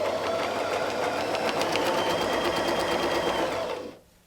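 A sewing machine stitches a quilt block along a circle ruler, with a fast, steady mechanical chatter running close and loud for about three and a half seconds before stopping. No talking.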